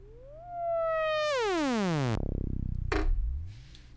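The Arturia EMS Synthi V software synthesizer produces a rising then sweeping harmonic tone that dives into a low buzzing drop, with a short bright burst after, all alone.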